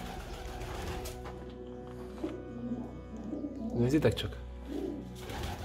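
Soft pigeon cooing in a low rumbling rhythm, mixed with other bird calls, while a person speaks briefly over it.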